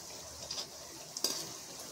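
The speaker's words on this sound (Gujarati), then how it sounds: "જેમ જેમ ખારી આપણી તળાય તેમ તેમ આ રીતે ઉપર તેલ નાખતા રહેવાનું" Wheat flour khari frying in oil, with a steady soft sizzle and brief stirring or scraping clinks near the middle and end.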